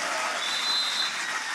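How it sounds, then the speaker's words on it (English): Audience applause fills a graduation ceremony hall, a dense, steady wash of many hands clapping at once, close and sustained throughout without speech. "Let's give him a round of applause."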